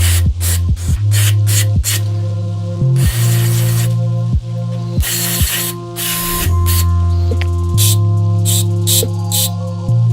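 Carburetor cleaner sprayed from an aerosol can into the jets of a quad's carburetor, several loud hissing bursts of varying length alternating with sharp clicks and ratcheting, over a steady low mechanical hum, close and without talk.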